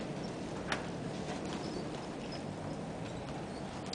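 Pony hooves clip-clop softly during a riding lesson, a faint rhythmic patter of steps heard beneath a constant broad outdoor hiss.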